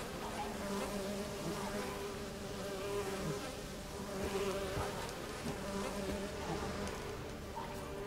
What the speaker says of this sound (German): Was sind das für Mücken?